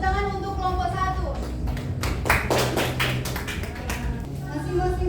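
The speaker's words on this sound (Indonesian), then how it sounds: "Tepuk tangan untuk kelompok 1." Classmates give a group brief applause after its presentation in a classroom, a short burst of clapping that rises and fades amid speech before and after.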